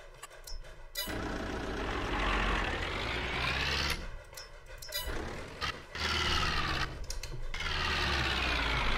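A tractor engine in Farming Simulator 22 with an Indian mod drones loudly in long stretches, broken by brief pauses and clicking gaps.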